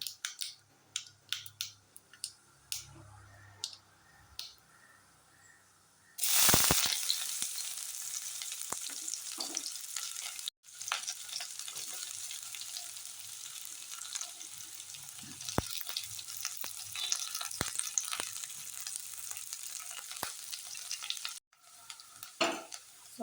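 Sliced onions frying in a pan for sabudana upma, stirred with a spoon, starting with soft scraping taps then breaking into a loud continuous sizzle punctuated by clinks and scrapes of stirring.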